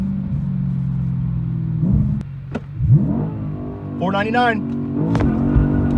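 Audi B8 RS5 with a lightweight flywheel launching with the clutch slipping, its engine droning and revving up and down loudly while someone talks over it.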